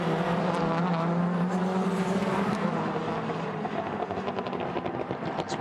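WTCC touring race cars lap the Shanghai circuit, engines roaring loudly and continuously as cars pass near, with the pitch shifting through gear changes and a second car's engine joining the din.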